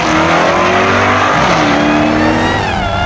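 A 2019 Jaguar XE SV Project 8 with 600 horsepower accelerates away hard, its engine roaring loudly and climbing in pitch through the gears, close and dominant.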